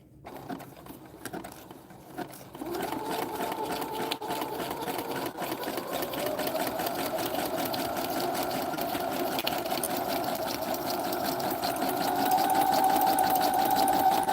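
A sewing machine stitches through paper and fabric in one long continuous run, a close, steady mechanical whir with a rapid needle patter that speeds up slightly toward the end, with no talking.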